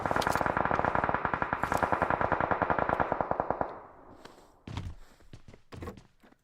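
Rapid automatic gunfire in the shooter game PUBG Mobile rattles in a fast, even burst for several seconds, then gives way to a few isolated heavier shots and thuds with faint echo, fairly quiet overall.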